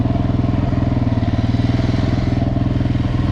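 A Suzuki LTZ400 quad idles close by, its single-cylinder engine putting out a loud, steady, rapid thumping pulse, with a brief clunk as it is shifted into gear.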